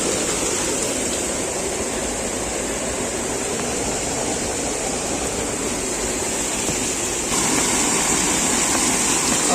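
Water pouring from above into a pool at a forest spot, a steady, loud broadband rush that runs unbroken throughout with no voices.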